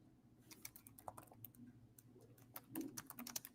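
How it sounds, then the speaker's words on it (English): Rapid typing on a computer keyboard while building a data table in Microsoft Fabric: close, crisp irregular key clicks in quick bursts, fairly quiet, with a faint low hum underneath. "I'm going to start typing"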